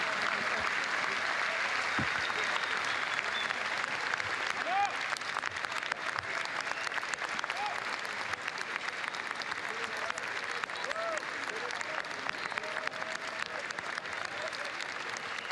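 A crowd applauds on the red carpet steps at the Cannes film festival screening of Emilia Perez, a sustained even wash of distant clapping with murmuring voices running underneath.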